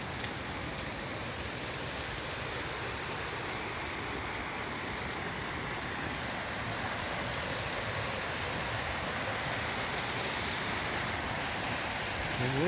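A river running high beside a road along the Appalachian Trail gives a steady, dense rush of water that never lets up, loud and close, with no talking.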